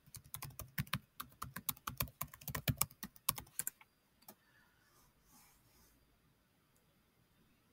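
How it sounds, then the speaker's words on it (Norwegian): Fingers tap out a web address on a computer keyboard in a quick, uneven run of close, crisp clicks lasting about four seconds, followed by quiet room hush. "Jeg klikker øverst i adressefeltet her, så skriver jeg kostholdsplanleggeren.no."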